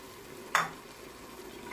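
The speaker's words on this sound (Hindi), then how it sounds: "और अब हम इसमें कुकिंग ऑयल डालेंगे" Oil poured into a hot pan for chana dal gives one brief bright sizzle burst, then a soft low hiss of stirring, near and alone.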